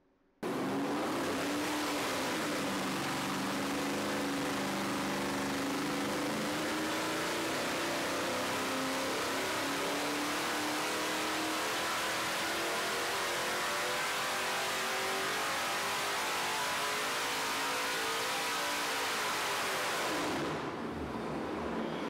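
An engine fitted with LS cylinder heads makes a dyno pull. It roars loud and continuous, climbing steadily in pitch for about twenty seconds before cutting off abruptly, with no voices.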